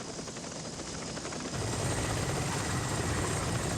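Military helicopter in flight during the Vietnam War, a steady broadband rotor roar with rhythmic blade chop, growing louder and closer about halfway through, with no voices.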